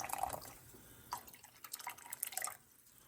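Water trickles and drips around the edge of a coffee pot while grounds are rinsed down, several irregular splashes and pattering drips, close and moderately quiet.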